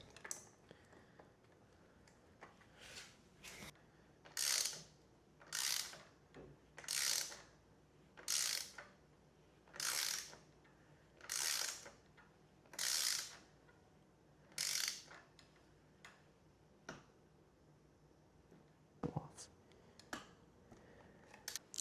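A ratchet turning bolts on a mountain bike gives about a dozen regular bursts of close, crisp clicking, with short pauses between them and a few lone clicks near the end, and no talking.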